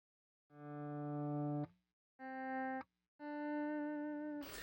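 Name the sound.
electric guitar through Donner Vowel Mini active volume pedal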